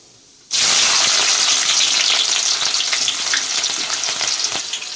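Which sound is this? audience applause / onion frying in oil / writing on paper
onion frying in oil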